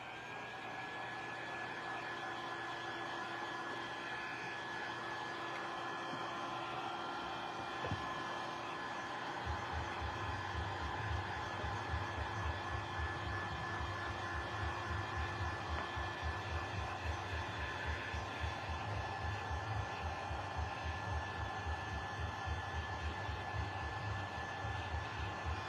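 A hair dryer blows steadily on a layered handmade valentine craft, a constant close whoosh with a faint whine that swells a little louder and rougher partway through.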